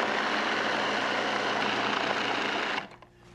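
A Cuisinart food processor whirs loudly and steadily while blending broccoli and potato soup, then abruptly shuts off near the end, leaving quiet.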